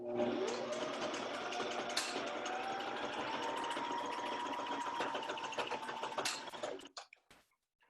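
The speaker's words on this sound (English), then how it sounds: "I'm just gonna sew it down with the sewing machine by just sewing the two pieces down" A sewing machine stitches two folded fabric face mask pieces together, running in a steady close whir for about seven seconds before stopping.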